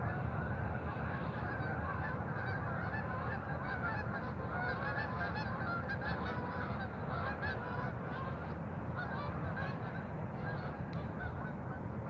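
A flock of geese honks continuously over a sunrise fishing spot, many overlapping calls forming a busy, moderately distant chorus with no one talking.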